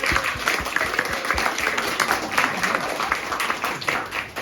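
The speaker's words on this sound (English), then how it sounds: "give Jenny a clap" Audience applause in a hall, dense continuous clapping from a sizeable crowd at a Subbuteo heritage event, steady throughout.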